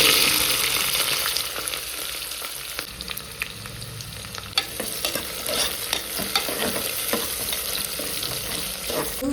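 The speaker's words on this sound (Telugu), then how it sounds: "ఆవాలు, జీలకర్ర, శనగిత్తనాలు. ఇప్పుడు ఆనియన్ వేసుకుంటాం" Onion frying in hot oil with mustard seeds, cumin and chana dal, a loud continuous sizzle broken by frequent scraping stirs and crackles, close by with no voices.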